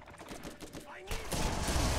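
A sniper rifle fires in Borderlands: a loud, broad blast erupts about halfway through and rolls on, following quieter game noise and players' voices.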